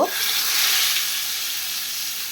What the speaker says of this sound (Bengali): মাছগুলো ম্যারিনেট করে রাখছিলাম সবার আগে তো অনেক সময় মাছগুলোর মধ্যে মশলা মাখানো ছিল এখন আমি তেলের মধ্যে দিয়ে দিলাম